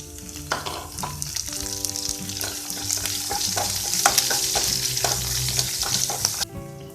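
Chopped ginger, green chillies and curry leaves drop into hot oil in a pan for upma, sizzling loudly up close with stirring clatter and sharp pops, then cutting off abruptly near the end.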